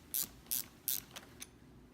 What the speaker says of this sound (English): Now you'll grab your 10 millimeter bolt, slide it in, make sure it lines up with the hole, and you'll just begin screwing it in.